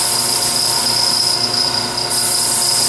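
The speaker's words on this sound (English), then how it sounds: "Got to sand that off" A power sander working a wooden scoop with a hard pad, a loud, steady high-pitched whine and abrasive hiss held close for the whole stretch.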